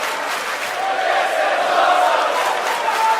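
A large ECW arena crowd in the WWE 2K18 wrestling game keeps up a steady roar of chanting and cheering, dense and continuous throughout.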